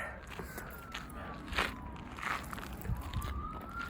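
A faint siren wails in the distance, its tone slowly falling and rising, with soft crackles and scuffing nearby.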